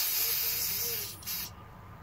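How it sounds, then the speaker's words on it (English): Brake cleaner sprayed from a can onto front brake parts of a 2005 Chevy Equinox, a close hissing blast about a second and a half long that cuts off sharply, then a quieter tail. "use your brake cleaner"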